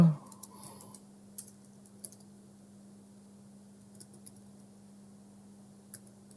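Sparse, light key clicks from a computer keyboard as a short delivery note is typed, faint and close over a steady low electrical hum.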